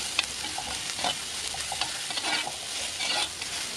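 Green chilies, shallots, garlic and curry leaves sauté in a pan for a lemon pickle, a soft steady sizzle broken by frequent stirring scrapes and light taps.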